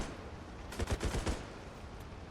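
Gunfire in a zombies video game as a player shoots a sign in a village map: a short burst of about five rapid shots at moderate volume, followed by a sharp bang at the end.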